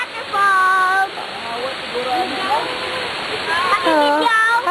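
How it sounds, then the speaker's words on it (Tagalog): Broadband rushing water from a waterfall at Dahilayan runs steadily throughout, with several people talking and calling out over the constant roar. "We are here in Waterfalls."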